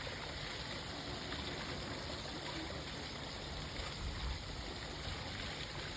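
Water splashing from a fountain at a small statue of a little girl atop a plant in Cascais, Portugal, a steady, continuous rush with no pauses, close and fairly loud, with faint traffic-like rumble underneath.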